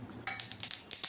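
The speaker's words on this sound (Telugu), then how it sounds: "చిటపటలాడుతూ బాగా సౌండ్ అయితే వచ్చేస్తుంది" Flax seeds crackle while dry-roasting in a pan: a faint series of sharp, irregular pops and ticks, about seven in quick succession, with no voices.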